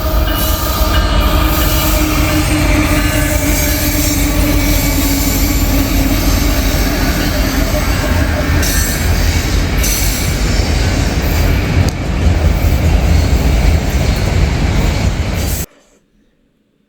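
A train rumbles past loudly and continuously, wheels clattering with occasional squeals, until the sound cuts off abruptly near the end.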